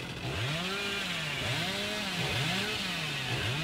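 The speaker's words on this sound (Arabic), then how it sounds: "والله المنشار صاير ما يدز بسرعه يعني" Chainsaw in the horror game Dead by Daylight revving in repeated rising and falling surges, loud and close, about four swells in succession with no talk over it.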